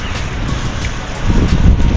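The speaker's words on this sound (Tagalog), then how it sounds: "Ay, ang sarap ng hangin" Outdoor wind gusts buffet the microphone in low, uneven rumbles, swelling louder over the second half of the brief stretch with no voices.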